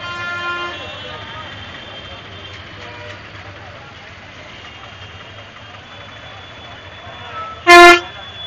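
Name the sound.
road traffic with honking in Junagadh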